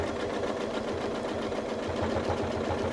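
A domestic sewing machine running steadily while quilting along a ruler, giving a fast, even mechanical chatter of stitches at a moderate level with no talking.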